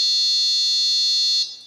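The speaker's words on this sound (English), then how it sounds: "We hear that long beep." A Pixhawk flight controller on a QAV500 quadcopter gives one long, steady, loud electronic beep as it arms indoors in a garage, holding for over a second before cutting off abruptly.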